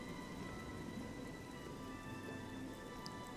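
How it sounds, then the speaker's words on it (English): Steady, soft rain hisses without a break in the video game Oblivion, a faint, even wash of falling water with no voices over it. "Wolfram wouldn't mind if the rain stopped."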